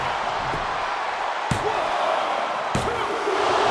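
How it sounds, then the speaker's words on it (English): Sharp slams from a televised wrestling match, where a wrestler lands repeated choke slams on the mat. Two loud impacts about a second apart, plus a fainter earlier thud, over steady crowd and arena noise. "3 choke slams and he's still not out?"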